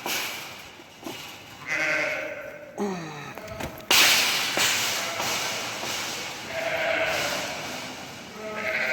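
Sheep bleat repeatedly during lambing, several wavering calls in a row, fairly close, over a busy background of rustling and faint voices.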